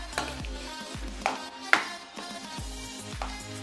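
Peanut chikki mixture being stirred in a pan just off the heat, with repeated scraping strokes and soft sizzling, a few sharper clatters of the spoon against the pan, and no voices.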